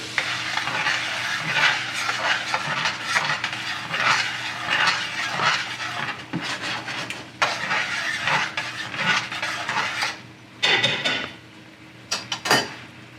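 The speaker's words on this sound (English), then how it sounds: "Now we want to add the demi-glace. And stir." Demi-glace is stirred into a steak au poivre pan sauce, with a continuous bubbling sizzle under repeated scraping and clinking of a utensil against the pan, close and fairly loud, without speech.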